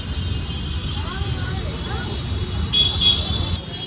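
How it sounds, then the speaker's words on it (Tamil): Car horns honk in busy Varanasi street traffic, with two short bright blasts late in the clip over a steady low rumble of passing vehicles, and voices are faintly heard. "பயங்கரமாக சவுண்டு ஹார்ன் அடிச்சிட்டே இருக்காங்க"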